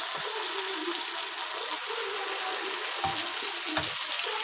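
Mustard greens sizzle steadily in a hot pan with garlic, ginger and green chillies, a continuous close frying hiss with a couple of soft stirring knocks.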